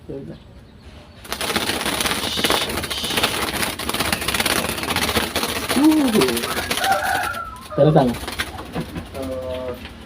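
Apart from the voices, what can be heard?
zebra dove cooing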